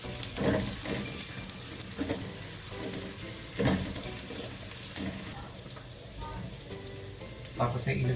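Onion and ginger sautéing in a pan for ginataang kalabasa with crab, a steady frying sizzle with scattered clinks and scrapes of stirring, moderately close, with no talking.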